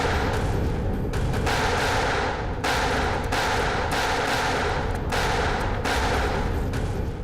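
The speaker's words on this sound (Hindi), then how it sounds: "कवर फायर दो जल्दी।" Gunfire in a TV crime drama shootout, a dense roar of continuous shots and blasts with sharp bursts recurring roughly every second, loud and close throughout with no talking.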